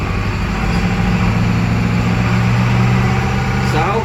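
A large International T444E bus diesel engine idles steadily nearby, a low, constant rumble with a faint whine near the end.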